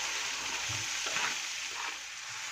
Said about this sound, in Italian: comincio a rosolare sia lo spicchietto d'aglio che la cipolla tritata